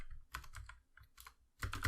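Clusters of close, crisp key clicks come in short uneven bursts with brief pauses as code is typed on a computer keyboard, with no voice heard.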